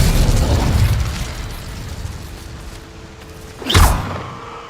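A fire spell cast in Hogwarts Legacy, heard as a rumbling magical roar and burst under constant game ambience, followed by a brief bright whooshing flare near the end.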